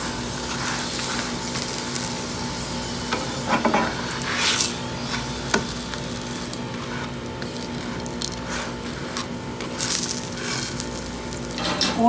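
A keema paratha fries on a pan over medium-low heat, giving a steady close sizzle with occasional scraping and stirring clatter, with no talking.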